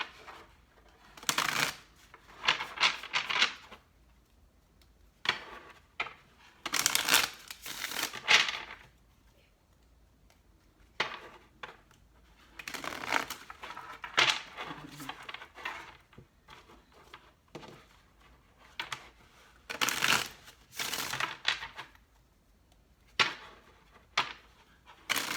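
Tarot cards being shuffled in repeated bursts of crisp riffling and flicking, separated by quiet pauses, close up.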